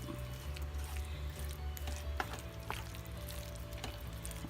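Hamburger meat and vegetables being stirred together, soft squishy mixing over a steady background hum, with a few sharper scrapes and no talking.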